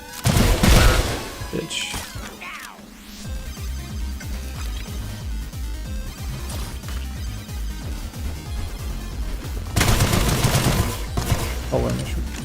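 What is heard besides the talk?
enemy gunfire in the video game Sulfur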